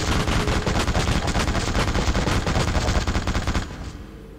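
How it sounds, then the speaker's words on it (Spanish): A gun turret in the PS2 video game The Suffering fires a rapid, continuous stream of loud, close shots for about three and a half seconds before cutting off. "Hostia, eso es una torreta."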